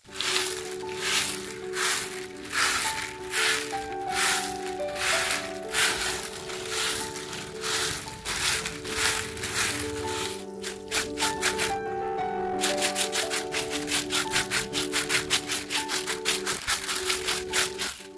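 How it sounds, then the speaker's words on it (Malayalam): A yard covered in fallen dry leaves swept with a broom: rhythmic scratchy rustling strokes repeat roughly every second, then speed up into a rapid run of short strokes near the end, close and fairly loud over a steady musical background. "മുറ്റത്ത് അത്യാവശ്യം നല്ല പോലെ ചമ്മലുണ്ട് കേട്ടോ അപ്പോൾ അതൊക്കെ ഒന്ന് ക്ലീനാക്കി എടുക്കുന്നുണ്ട്"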